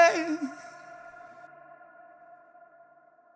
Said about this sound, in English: I'm going to go back so you can hear it echo.